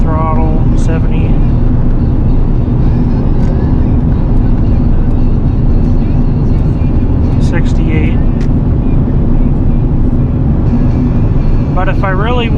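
A 24-year-old 8.1 gas V8 truck tows about 18,000 pounds uphill with loud, constant engine drone and road roar filling the cabin, while a voice talks over it.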